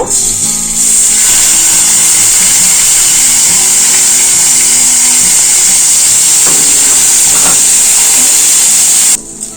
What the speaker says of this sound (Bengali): খাস চালটা হালকা করে ভাজা হয়ে গেল